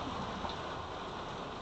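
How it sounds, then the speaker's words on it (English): Rain falls steadily during a fishing boat trip in the Florida Keys, a dense, even hiss of drops with no voices. "Look at this rain."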